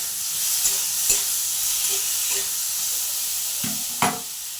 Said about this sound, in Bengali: ভালো করে টমেটোগুলো আগে ভেজে নিচ্ছি